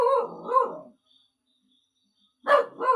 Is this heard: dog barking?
yes